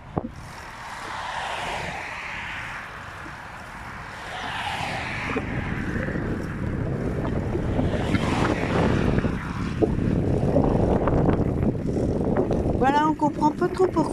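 Steady, broad wind rushing and buffeting a microphone outdoors in Denmark, loud and continuous, with a person talking faintly underneath for stretches.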